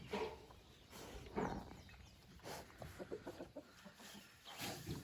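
Roosters and chickens cluck on a farm in rainy weather, several short bursts of clucking that come and go against a quiet background, with no talk.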